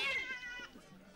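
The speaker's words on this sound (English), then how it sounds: "I don't think your kitty likes us very much." A cat gives a single drawn-out, wavering meow that is loud at the start and then tails off, heard close and alone in a short stretch of an adventure drama set in Malaysia.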